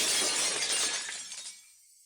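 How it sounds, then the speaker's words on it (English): Glass shatters in the visual novel Higurashi: one loud, close crash of breaking glass with a bright, hissing spray of shards that quickly fades into silence. "The unpleasant piercing sound of shattered glass"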